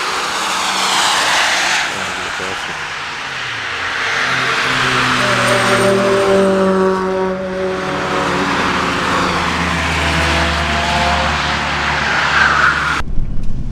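A diesel Mercedes-Benz E-Class 250 lapping the Nürburgring, its engine droning loud and steady with rising and falling pitch through gear changes, plus tyre and wind noise, no talking.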